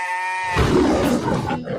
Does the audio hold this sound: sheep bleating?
yes